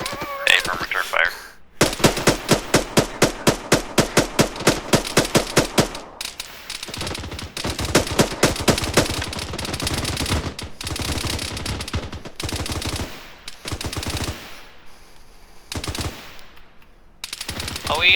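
Rapid automatic gunfire from the military shooter Arma 3, with long bursts of closely spaced shots, then scattered shots and further volleys, loud and close, with radio-style voices talking between bursts.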